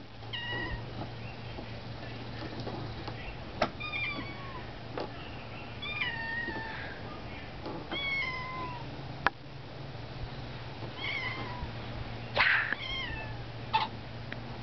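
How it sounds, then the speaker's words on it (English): A cat meows again and again, short rising cries repeating every second or two over a quiet room with a low steady hum. "Yeah, Kitty wants to go out now."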